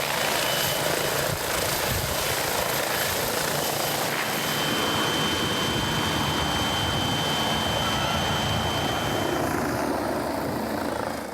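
A helicopter flies close and loud in Papua New Guinea, its rotor and engine roaring as one continuous dense drone that holds steady throughout.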